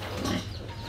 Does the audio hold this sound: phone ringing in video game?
no